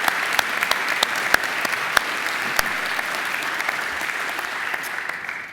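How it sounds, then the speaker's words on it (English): Steady applause from a large crowd at a university graduation ceremony, continuous and even throughout with a few sharper claps standing out, no talking over it. "Let's give them a round of applause."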